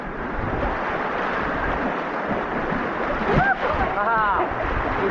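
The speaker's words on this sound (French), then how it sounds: "on va dans ces petites vagues" A raft moves through small waves in river rapids on a rafting descent, giving a continuous rush of water and wind noise close by, with short voices calling out near the end.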